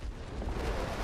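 A UWST strike explodes in the NIKKE video game, a brief, muffled, rumbling blast that swells in the low end and stays fairly quiet throughout.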